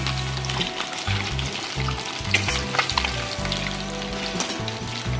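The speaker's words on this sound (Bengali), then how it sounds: "তেলটা দিয়ে ডিমটা একটু ভেজে নিচ্ছি" An egg fries in hot oil in a home kitchen, giving a steady close sizzle and crackle with occasional stirring scrapes, lightly browned rather than crisp, with no one speaking.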